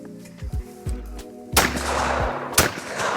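Shotgun blasts at clay targets on a trap-shooting range, a few sharp loud cracks with short echoing tails, the last two shots louder and closer, with no talk over them.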